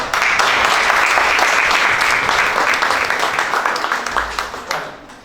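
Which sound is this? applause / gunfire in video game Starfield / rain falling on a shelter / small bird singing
applause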